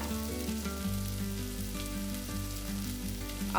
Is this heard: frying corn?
yes